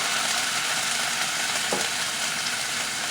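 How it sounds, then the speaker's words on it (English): Chicken breast browning in a hot frying pan gives a steady, loud, broadband sizzle, with one brief scrape or shift of the pan midway and no voices. "I'm going to let that brown just a little bit."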